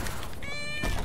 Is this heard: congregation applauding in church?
no